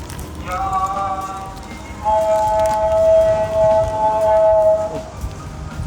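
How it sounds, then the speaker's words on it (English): An Islamic call to prayer, a long, wavering chanted voice, carries from a distance, holding sustained melodic tones over a steady background hum, with a brief quieter pause partway through. "It sounds like Muslim worship."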